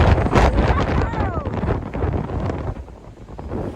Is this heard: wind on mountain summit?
yes